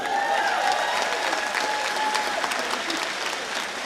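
Applause from the audience at a back-to-school meeting for teachers, dense and steady all the way through, with a few faint voices mixed into the crowd.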